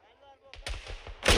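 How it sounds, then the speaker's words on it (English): Gunfire in the Arma 3 video game, a few sharp shots close together then a louder burst, heard under a voice shouting. "Enemy fire!"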